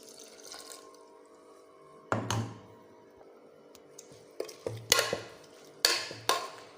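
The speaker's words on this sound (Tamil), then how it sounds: "அது கூட மிக்ஸி ஜார் கழுவுனதை தண்ணி ஊற்றிக்கலாம்." Rinse water from a mixer jar is poured into a pot of drumstick leaf and flower soup. A few splashing pours and drips come in bursts against a quiet background, with no voices.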